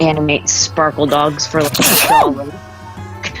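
A single sharp sneeze bursts out in the middle of steady conversation, with voices talking before and after it.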